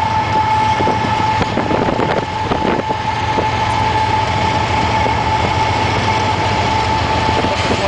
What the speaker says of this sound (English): 5 locomotives.